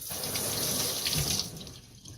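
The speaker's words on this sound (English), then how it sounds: "I'm going to rinse that off." Ginger rinsed under a running kitchen tap, a steady close splash of water into the sink that holds for about two seconds with no talking.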